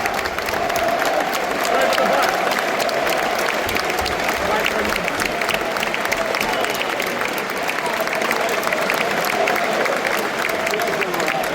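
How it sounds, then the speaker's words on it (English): Standing ovation at a Blackburn Rovers versus Birmingham City football match, a large stadium crowd clapping steadily and loudly for the whole stretch with a dense, unbroken roar of hands. "Standing ovation for Edges."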